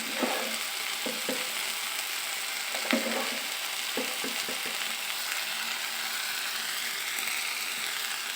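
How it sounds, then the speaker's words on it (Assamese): Boiled potatoes and taro pieces fry in hot oil in a pan, a constant sizzle with intermittent scraping and clacking as a utensil stirs them, close and steady throughout. "এতিয়া অলপ লৰাই ভাজি থাকিম।"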